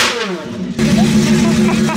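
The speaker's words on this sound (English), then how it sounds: "How do you even drive a car that's that loud?" A loud car engine revs hard at a busy outdoor car show, a sustained roaring drone that jumps in intensity partway through and stays loud, with crowd noise around it.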